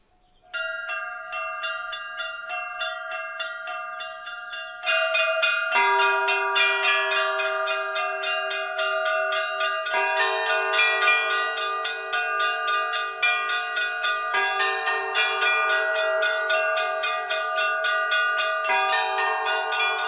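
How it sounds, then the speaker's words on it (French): Monastery church bells ring for evening mass, a sustained peal of several overlapping bells with steady repeated strikes, loud and alone with no voices, the ringing thickening after the first few seconds. "Le son des cloches annonce le début de la messe du soir."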